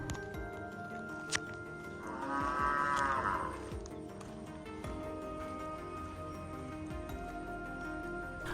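One long, drawn-out cow moo rises from a moderate distance over steady outdoor background noise in Chekadi tribal village, Wayanad, then the scene settles back to ambient hum.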